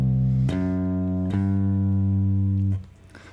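An 8-string guitar plays a bass line that leaps to a note below G and resolves upward. Three sustained, clean notes follow each other, each attack clear and ringing, then the last note is cut off.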